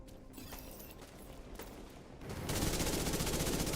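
SMG gunfire in a Ubisoft video game DLC: scattered sharp shots early, then a dense rapid burst of automatic fire that grows louder over the final second or so.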